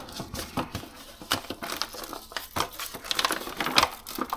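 Plastic liner inside a paper flour bag from a 1636 grist mill crinkling and rustling continuously, close up, with irregular crackles and papery scrapes as it is handled.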